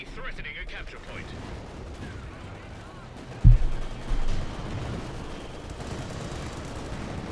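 Cannon fire in Company of Heroes 2, a British Cromwell tank shooting at a German Panther, one sharp heavy boom with a rumbling tail and a lesser follow-up blast, set over constant battle ambience and a commentator's talk.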